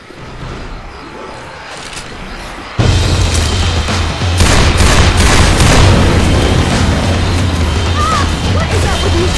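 Dense gunfire and booms fill a Left 4 Dead 2 swamp level, with a loud sustained barrage breaking in suddenly after a quieter stretch, while voices can be heard beneath the shooting.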